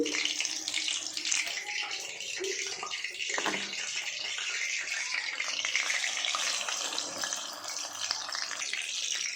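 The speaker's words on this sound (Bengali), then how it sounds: "ব্যাটারের মধ্যে এইভাবে ডুবিয়ে তেলে ফ্রাই করে নেব।" Battered bhola fish pieces fry in hot oil, making a steady, dense sizzle and bubbling hiss close by that runs without a break. A faint voice is heard at times.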